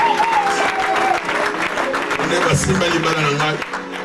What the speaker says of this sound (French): Est-ce qu'on peut applaudir le Seigneur pour ce Let's moment?